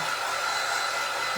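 A hair dryer blows steadily at close range, drying Rub 'n Buff metallic wax on a craft sign made from a Dollar Tree carrot decoration; the airflow is a constant loud whoosh with no voices.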